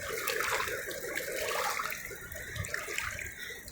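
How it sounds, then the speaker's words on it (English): Water from the Klamath River rushing steadily through a gold-mining sluice, a continuous close splashing flow without breaks. "how the water's just running on through."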